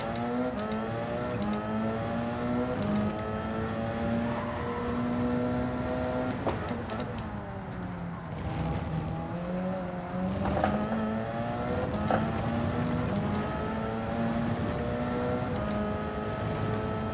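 A Porsche race car in Gran Turismo 7 revving and accelerating continuously, engine pitch climbing and dropping through shifts with throttle blips, steady and prominent throughout.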